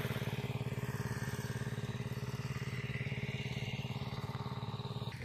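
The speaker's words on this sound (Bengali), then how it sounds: "এইখানে একখানা পাওয়ার টিলার নিয়ে যাওয়া হচ্ছে" A power tiller's engine runs steadily in a farm field in the morning, its rapid, even putter continuing without a break and moderately close.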